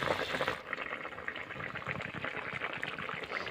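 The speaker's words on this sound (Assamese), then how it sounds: "তো প্ৰায় হৈয়ে গ'ল, অলপ উতলি আছে" Chicken curry bubbling in a pot on a home stove, a steady close simmer of boiling liquid throughout with no voices.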